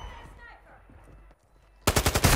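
Shotgun blasts ring out in a Call of Duty match, a quick cluster of loud, sharp shots at the very end after a quiet stretch of faint game ambience.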